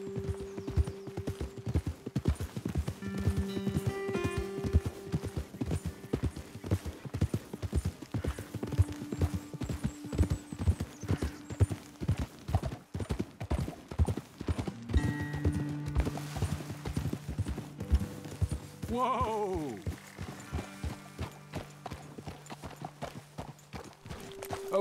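Horse hooves from riding in the video game Red Dead Redemption 2, a steady, close, rhythmic clip-clop that runs throughout. Game music plays underneath, and near the end comes a brief whinny.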